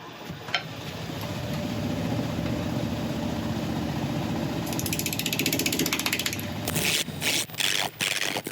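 A wood lathe turns a bowl blank at roughly 550 RPM, its steady mechanical whir and rattling hum running continuously and close, with sharper scraping bursts near the end.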